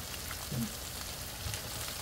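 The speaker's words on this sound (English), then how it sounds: "it's frying up real nicely there" Squash pieces fry in hot oil in a pan, giving a soft, steady sizzle and crackle at close range for a couple of seconds.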